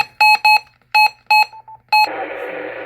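Five loud, piercing electronic beeps play through an external speaker in a quick uneven sequence, followed by a burst of harsh static noise.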